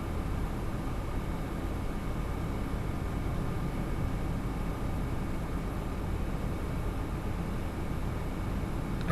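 A Class 66 diesel locomotive in the Train Sim World game makes a steady, even drone of engine noise with faint tonal whine, held at a constant level throughout without speech.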